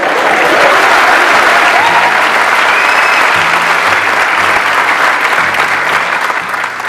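A large crowd at a business seminar applauds, a loud, dense, continuous roar of clapping hands with faint background tones underneath.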